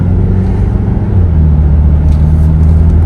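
A Ford S-Max car driving, heard from inside as a loud, steady low engine and road rumble with no speech over it.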